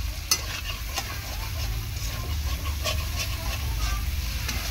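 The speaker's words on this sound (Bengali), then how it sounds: "চিংড়ি মাছটাকে প্রথমে কষিয়ে নেব ভালো করে।" Small shrimp sauté in hot oil in a pan with a continuous close sizzle and frying crackle, plus a sharp utensil tap near the start and light scraping stirs throughout.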